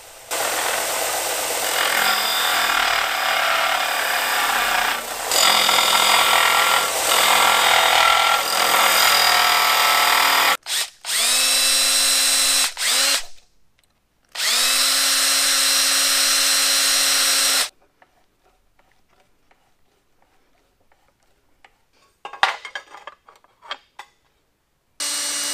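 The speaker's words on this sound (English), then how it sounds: "I had to sand off those tack welds to separate the plates." Power sander or grinder grinding tack welds off steel bracket plates, with loud sustained bursts broken by short pauses and a quieter stretch of light clatter and handling near the end, close up with no talking.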